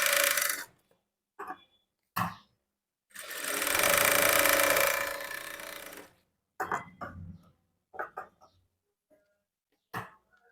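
A sewing machine stitching blouse fabric runs in short, close bursts with one long, loud, steady run of stitching in the middle, separated by silent pauses.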